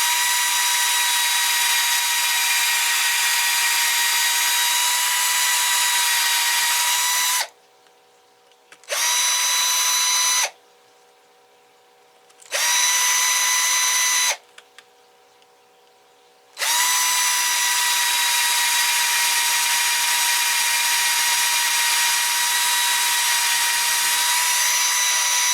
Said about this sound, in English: So all I've been doing is I'm drilling 2 holes.